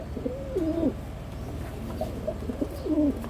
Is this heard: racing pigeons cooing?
yes